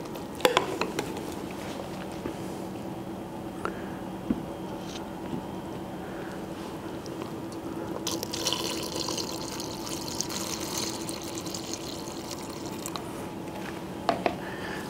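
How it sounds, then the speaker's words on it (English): Stock is poured into a pot of mushroom soup, giving a continuous liquid patter and splashing with occasional clinks of utensils against the pot, at moderate level and without talk. "And then I'm going to add some more of the stock."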